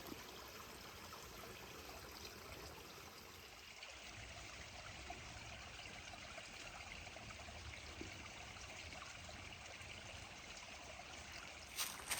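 A creek flows steadily beside a hiking trail lunch spot, a soft, continuous trickling wash heard at low level with no voices.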